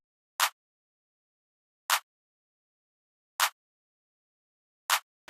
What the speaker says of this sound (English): I found these kind of trap kind of claps just to really add that trap kind of tone to the beat